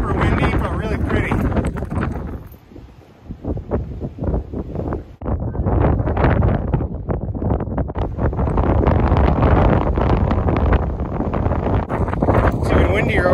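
Strong wind buffets the microphone at the top of a fire tower on a White Mountains summit in New Hampshire, roaring in loud gusts with one brief lull, while people talk over it.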